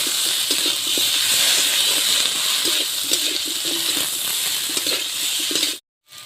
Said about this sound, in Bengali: পোস্ত বাটা দিয়ে দিচ্ছি।